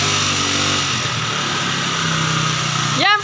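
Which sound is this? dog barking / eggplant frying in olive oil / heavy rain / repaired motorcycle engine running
repaired motorcycle engine running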